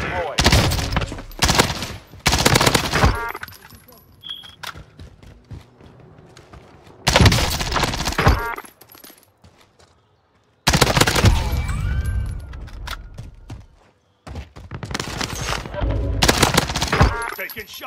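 Gunfire rips through a shooter video game in loud automatic bursts separated by brief pauses, with several long rattling volleys up close.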